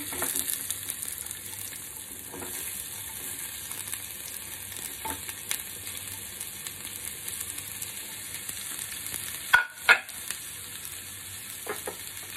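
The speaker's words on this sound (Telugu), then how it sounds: "ఇప్పుడు ఉల్లిపాయ వేయించుకుందాం." Onions fry in hot oil in a kadai for a spicy Telangana-style chicken curry, a steady hiss of sizzling with a few louder stirring clinks and spatters, no voices.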